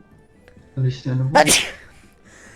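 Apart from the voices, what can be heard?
sneeze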